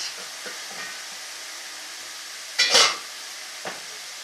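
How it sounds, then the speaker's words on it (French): Chopped onions sizzling in a pan alongside aubergines, a steady moderate hiss with a louder burst of stirring near the end and a brief clatter after. "Donc maintenant on rajoute les oignons qu'on vient de couper."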